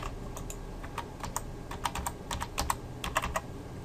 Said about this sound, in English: I'm going to put in a password,